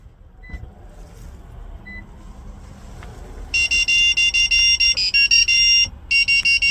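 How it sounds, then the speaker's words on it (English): A 2015-2018 Lexus NX 300h sounds a rapid, loud series of electronic beeps after key fob programming, starting a few seconds in and pulsing in quick bursts over a quiet background. "wait for a few seconds until you hear the beeping sound indicating programming is successful"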